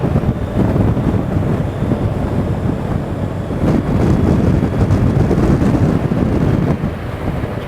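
Heavy wind buffets the microphone during a motorcycle ride on a road in Slovenia, producing a loud, constant low roar that surges slightly at times with no other sounds.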